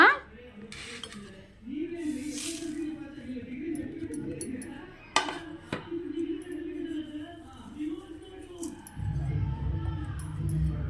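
Coriander, curry leaves, sesame and chili flakes are stirred into flour in a bowl in a home kitchen, with light clinks and scraping of a utensil against the dish. Someone talks throughout, and a low hum rises near the end.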